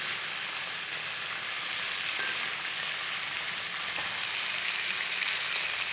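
Tilapia pieces fry in hot oil, a loud, steady, even sizzle and crackle running throughout with no talk.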